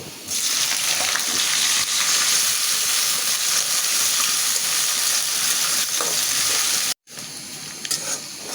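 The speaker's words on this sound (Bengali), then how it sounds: "চিংড়ি মাছটাও পেঁয়াজের সাথে সুন্দর ভাজা ভাজা হয়ে গেছে" Loud, continuous sizzling of prawns frying with onions in hot oil, a dense crackling hiss that cuts out briefly near the end before resuming.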